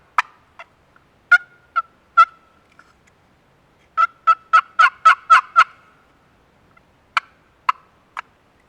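Dry, clucking taps from the lid of a turkey box call, a few scattered at first, then a quick run of about six, then three more spaced out, close and distinct with no other sound.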